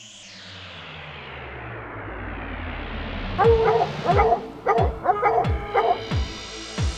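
Hunting dogs bark on a bear hunt, a run of sharp, loud barks and yips coming in quick bursts over a steady outdoor rumble, starting partway through and repeating several times close by.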